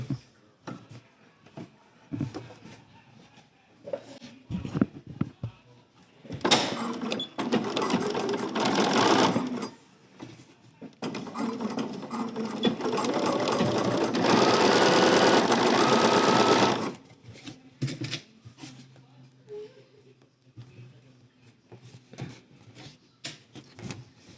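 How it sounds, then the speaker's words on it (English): Sewing machine topstitching linen pants at a one-inch line, two long, loud, steady runs of fast stitching separated by a short pause, with scattered handling sounds before and after. "I'm stitching right at the 1-inch line."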